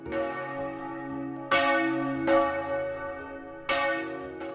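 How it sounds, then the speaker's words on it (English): A church bell rings out with rich, sustained metallic tones, struck several times at uneven intervals so each strike blooms over the lingering hum of the last, clear and fairly close with no voices. "We need the help for a bell to ring."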